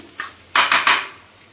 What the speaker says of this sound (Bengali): এক ছিটে বাটার দিয়ে এই গোবিন্দভোগ চালটাকে ভাজছি